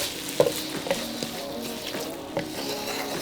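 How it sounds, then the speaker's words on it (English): Thick chili paste for mee siam goreng stirred in a frying pan, a soft steady sizzle broken by a few light scrapes and taps of the utensil against the pan, close and alone with no talking. "Make sure you come back and stir because it can burn."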